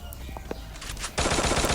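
Rapid automatic gunfire in the battle royale game Free Fire, a few scattered shots followed by a dense, loud burst of continuous fire.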